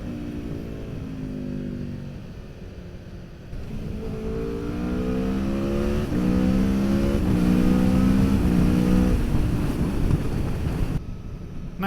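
An Aprilia V4 Tuono Factory naked motorcycle pulling away on a dry day, its engine revving up through gears with rising and dropping tones over heavy wind rush, loud and continuous.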